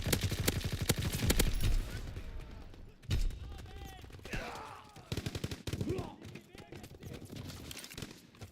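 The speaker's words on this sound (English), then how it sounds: "the suppressor sounds in this game are so good" Gunfire from the World War II shooter Call of Duty WW2, including suppressed weapons, comes as bursts of rapid sharp shots in several clusters, loud and near, with players talking over and between the firing.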